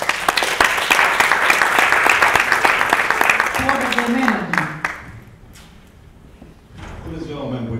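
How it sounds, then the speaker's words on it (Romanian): Audience applause at a business speaking event, loud and dense for about four seconds before fading out, followed by a voice talking close to the microphone. "Vă rog frumos în aplauze"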